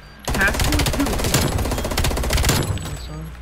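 Sustained rapid automatic gunfire from an FFAR rifle in Call of Duty Black Ops Cold War Search and Destroy gameplay, a dense loud burst lasting over two seconds before stopping abruptly.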